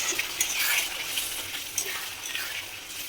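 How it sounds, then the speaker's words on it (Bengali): Vegetables with spices and a little water being stirred and fried in a pan, light metallic scraping and clinking of the utensil over a faint sizzle, quiet and close, with no talking. "এবার এটা দিয়ে কষিয়ে নেব আমি সবজিটা"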